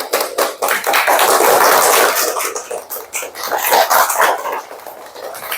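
A classroom of children claps together in a fast, dense chant rhythm, loud and close, with bursts of clapping running continuously and no voices in the clip.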